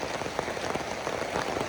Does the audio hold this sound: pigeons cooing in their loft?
no